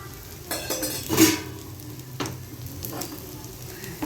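Maggi noodle omelette frying in a pan as oil is added, a steady sizzle with a few utensil scrapes and clinks, close and fairly quiet.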